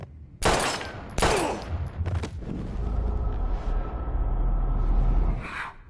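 Gunshots in Life Is Strange: two loud, sharp blasts close together near the start, a weaker third shot after, then a lingering low rumble and ringing decay.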